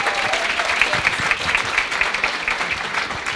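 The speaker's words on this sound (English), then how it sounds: "give them a round of applause" Sustained audience applause at a Norooz celebration at Michigan Tech, a dense, even patter of many hands clapping steadily throughout, fairly close and loud with no talk over it.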